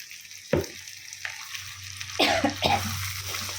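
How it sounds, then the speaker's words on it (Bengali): A cook coughs and clears her throat from chili fumes, several sharp bursts over a quiet background sizzle of frying prawns and spinach paste. "লঙ্কা যে দিয়েছিলাম না, কাশি হচ্ছে আমার দিতে"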